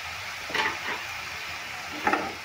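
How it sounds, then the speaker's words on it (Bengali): Grated pointed gourd filling with soya chunks being sautéed and stirred in a pan, heard as a few quiet, brief scraping stirs over a low background hiss. "এবার আমি খুব ভালো করে কষিয়ে নেব"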